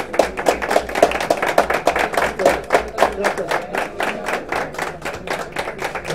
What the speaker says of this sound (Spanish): Yo quiero pararme y darle un aplauso a todos ustedes, a los medios de comunicación